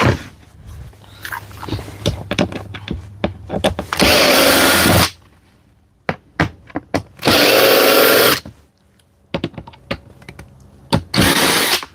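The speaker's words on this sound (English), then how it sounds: "it's all about the arc of the grinder" An angle grinder cuts into plywood in a woodworking shop, giving three loud, sustained bursts of a few seconds each. Sharp knocks and clatter fill the quieter stretches between the cuts.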